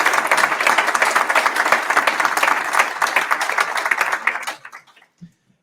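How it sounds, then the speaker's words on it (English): An audience at a European Space Forum session claps after a panel debate, a dense, lively burst of many hands that holds steady for several seconds before thinning out and stopping abruptly, leaving near silence. "I think they deserve a round of applause for a very topical debate."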